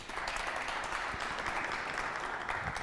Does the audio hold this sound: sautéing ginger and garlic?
no